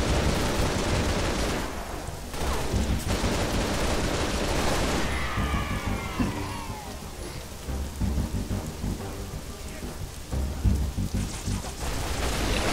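Heavy automatic turret gunfire from the Halo: Reach Prometheus mod's Winter Contingency mission, a dense, continuous crackling barrage that swells and thins in bursts with sweeping whooshes in the middle, loud and close throughout.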